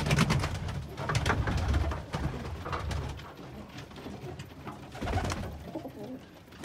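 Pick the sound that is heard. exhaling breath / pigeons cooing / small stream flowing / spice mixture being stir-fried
pigeons cooing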